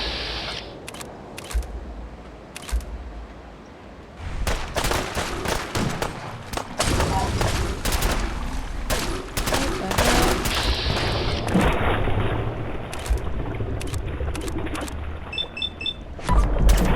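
Gunfire in Fallout 4's Far Harbor area cracks out in scattered sharp shots and rapid volleys, mixed with game noise and voices over a busy fight.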